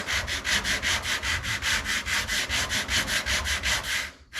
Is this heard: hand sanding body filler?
yes